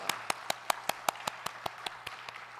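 Scattered claps from a small congregation at a Korean church Sunday service, a dozen or so sharp, evenly spaced hits heard fairly close against a quiet room with a low steady hum.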